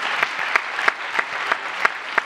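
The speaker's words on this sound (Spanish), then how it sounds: "Eso sí que es un aplauso" Audience applause with a rhythmic feel, a steady bed of clapping punctuated by regular louder beats roughly every third of a second, as if a crowd claps together in time.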